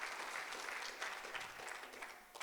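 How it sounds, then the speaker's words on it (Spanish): Church congregation applauding during a Spanish-language service, a sustained ripple of many hands clapping at a moderate distance, with a few sharper bursts standing out and no speech on top. "Ahora denle un fuerte aplauso al Señor, que es el que se merece la honra y la gloria."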